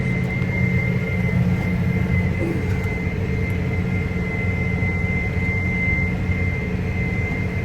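Tractor running with its manure spreader spinner turned on, a loud, steady engine drone with a constant whining tone, heard from inside the cab with no talk.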